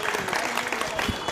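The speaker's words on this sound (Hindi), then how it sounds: "एक बार ज़ोरदार तालियां" A crowd at a political speech breaks into brief, dense applause, a quick burst of many clapping hands with some voices mingled underneath.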